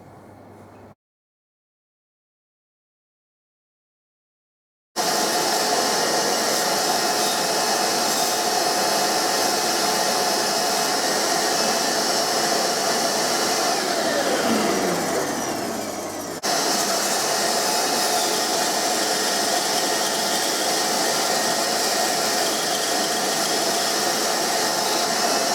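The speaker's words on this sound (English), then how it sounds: "So what I'm going to do next is to cut the tenon, and I can do that on the bandsaw" A bandsaw cuts the neck tenon of a chambered-body electric mandolin, giving a loud, steady whirring drone that starts abruptly after a brief silence and runs continuously, with a slight dip in tone midway.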